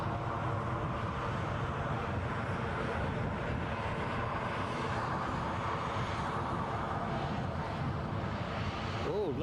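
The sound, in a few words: airliner passing at Edinburgh airport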